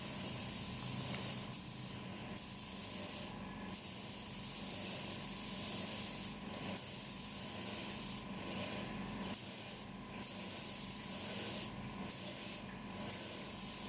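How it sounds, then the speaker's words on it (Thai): A spray can sprays white primer in repeated hissing bursts, each a few seconds long and separated by short pauses, steady and moderately close with no talk. "การพ่นรองพื้นก็ต้องพ่นให้สม่ำเสมอนะครับ"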